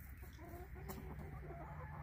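Faint, soft clucking of chickens on a farm, a few low murmuring calls spread over two seconds against a quiet background hum.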